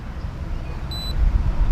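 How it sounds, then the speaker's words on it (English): A short electronic beep from an e-bike display powering up, a couple of high pitched tones sounding together for a moment, over a low steady rumble with no one talking. "There we go, it beeps."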